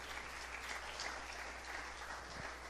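A church congregation applauds during a Holy Communion service, a faint, even wash of distant clapping that holds steady throughout with no voices on top.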